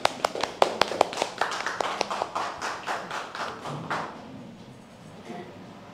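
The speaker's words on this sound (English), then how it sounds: "please applause Kun Ratikun ka" An audience at a refugee advocacy event applauds a speaker, with sharp individual claps up front quickly swelling into a steady round of applause that thins and fades after a few seconds.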